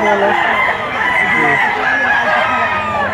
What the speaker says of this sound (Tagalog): Gandang manok ito.